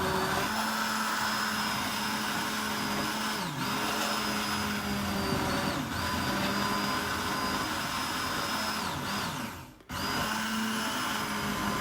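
An old kitchen blender runs loudly and continuously, with a steady whining motor hum that dips briefly in pitch several times as the load shifts, then cuts out for a moment before starting again.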